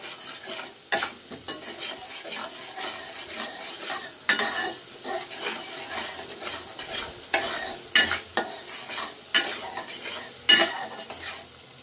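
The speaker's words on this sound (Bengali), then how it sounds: "দিয়ে কিছু পরিমাণে পেঁয়াজ কাঁচামরিচ দিয়ে একটু লাল লাল করে ভেজে নেব।" Onions and green chillies frying in oil in a wok, a steady sizzle punctuated by repeated sharp metal scrapes and clinks of a spatula stirring at an irregular rhythm, close and fairly loud.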